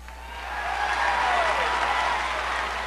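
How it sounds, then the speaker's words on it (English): A wrestling show crowd cheers and applauds in a steady, swelling roar that builds through the middle and holds loud to the end, with no voices standing out. "hear the exciting sound of this crowd"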